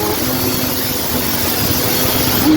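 A Yamaha Banshee two-stroke quad engine runs steadily while riding in fourth gear, a loud, continuous, buzzing drone close to the rider, with a water pump fault, holding even pitch throughout with no voices.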